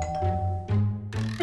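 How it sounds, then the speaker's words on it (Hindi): A two-tone ding-dong doorbell rings indoors, a clear chime repeated quickly in three close strikes over about a second and a half, loud and alone with no talk. "इस डोरबेल कौन होगा?"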